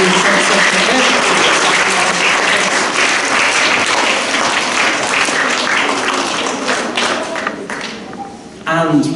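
Loud, dense applause fills a school celebration assembly, thinning toward the end as a few scattered claps and a brief voice come through.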